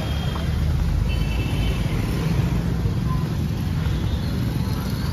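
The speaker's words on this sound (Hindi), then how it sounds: "this is the traffic guys" Steady road traffic passes near a temple in Alandi, outside Pune: a continuous broadband roar of engines and tyres with faint distant horns, dense and fairly loud throughout, with some background voices.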